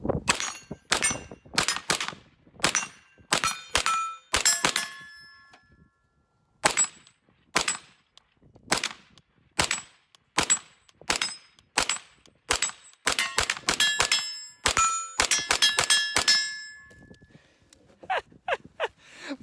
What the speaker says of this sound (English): shoot 33 rounds, and just let you watch me